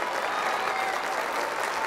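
Studio audience applause at a stand-up comedy show, an even, dense patter of many hands clapping throughout, moderately loud and unbroken with no voices on top.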